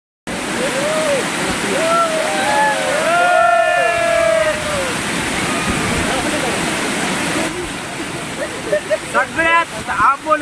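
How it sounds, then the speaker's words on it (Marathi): Amboli waterfall in the Konkan hills pours in a loud, continuous roaring rush, with excited voices and shouts of a crowd of visitors over it and splashing water near the end. "कोकणातला मोठा धबधबा आहे"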